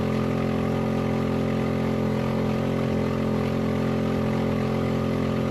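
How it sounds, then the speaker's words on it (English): An off-road race vehicle's engine runs rough during a Baja rally stage between San Felipe and Bahía de los Ángeles, a loud continuous droning idle with an uneven, sputtering undertone, steady and close, without talk. "the engine sounds unhappy right now"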